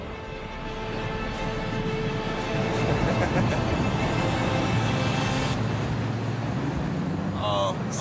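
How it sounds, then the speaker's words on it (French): Twin 8.3-litre, 550 hp engines drive a boat upstream on the Colorado River, a continuous loud low drone with rushing water noise, steady throughout with a brief high chirp near the end. "Le beau bruit que vous entendez en ce moment, ce sont deux moteurs de 8 litres 3 de 550 chevaux qui poussent ce bateau"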